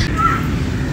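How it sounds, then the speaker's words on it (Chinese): A crow gives a single brief caw in a city park, heard once at moderate distance over a steady low background rumble. "一直在乌鸦在叫啊"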